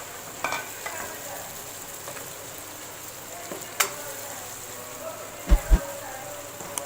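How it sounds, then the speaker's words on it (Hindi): Bhindi masala frying in a pot as whole and chopped green chillies go in, a soft, steady sizzle broken by a few sharp clinks and knocks of stirring. "अब मैं इसमें डाल दूँगी सब्ज़ मिर्चें"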